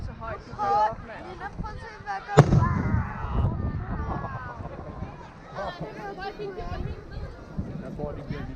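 Fireworks shells launching at a Danish display, limited to six-inch calibre, with one sharp loud boom followed by rumbling bursts and crackle beneath continuous excited crowd chatter nearby.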